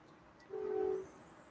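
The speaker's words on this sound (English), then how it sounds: "Oh, I hear a train." A passing train sounds one steady, sustained horn blast of about half a second, moderately distant, over a quiet night background with no talking.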